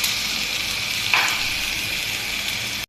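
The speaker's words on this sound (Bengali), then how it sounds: "আমি চিকেনটা ভেজে নিচ্ছি। আদা বাটা, লবণ, রসুন বাটা দিয়ে," Chicken coated with ginger paste, garlic paste, salt and soy sauce fries in a pan with a steady, fairly loud sizzle and a brief sharp spike partway through, then cuts off abruptly with no talking.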